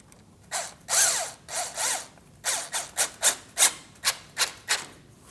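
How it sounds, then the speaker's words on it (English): Hose clamp being tightened on the lower radiator hose of a 2003-2007 Cadillac CTS 3.6L V6: a run of about a dozen close, short ratcheting rasps, slower and longer at first, then quicker and crisper, with no talk. "Make sure we can see hose on both sides and tighten the clamp"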